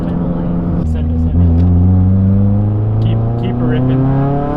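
A car engine revs and accelerates up close, its roar climbing in pitch in rising sweeps and then falling back, with a person talking over it.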